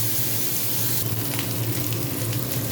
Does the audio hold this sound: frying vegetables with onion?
yes